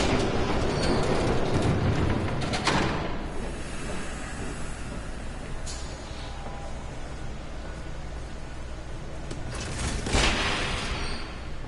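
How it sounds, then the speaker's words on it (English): A train rushes past in the Batman Telltale Series video game, a loud sustained rumble of rail cars with hissing bursts and mechanical clatter rising near the start and again toward the end. "There's a train coming. Take cover."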